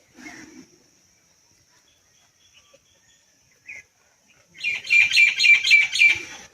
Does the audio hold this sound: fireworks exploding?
no